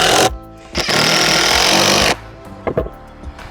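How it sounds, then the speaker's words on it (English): A power drill drives pocket-hole screws into the frame of a woven faux-leather cube ottoman: a short burst, then one sustained, loud, close whirring run of just over a second, followed by a few light knocks. "get your drill to fit in there and get the pocket holes screwed into place"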